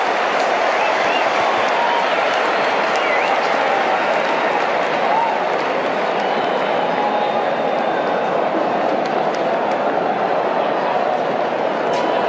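Stadium crowd at a cricket super over roars and cheers in a continuous, loud wash of yelling and applause, distant and dense throughout with no single voice standing out.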